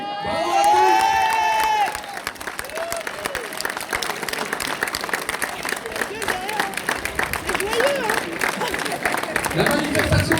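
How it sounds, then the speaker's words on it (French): A crowd at a protest rally in Lannion breaks into steady applause with scattered cheers and whoops after a brief amplified voice at the start, clapping continuing to the end. "Vraiment, on peut tous s'applaudir."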